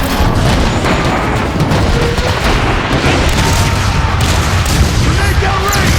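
Warp cannon shells pounding a plaza in the Transformers: Fall of Cybertron video game, a loud, dense and continuous barrage of booming blasts and crackling gunfire with no pause.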